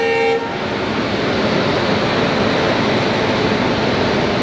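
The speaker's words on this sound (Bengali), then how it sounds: "এই হচ্ছে আজকে আমাদের লোকোমোটিভ 30469 শিয়ালদা ওয়েব 7" A Sealdah WAP-7 electric locomotive, number 30469, heads a Sealdah–New Alipurduar express; a short horn toot opens, then steady loud rumble and rail noise carry on continuously.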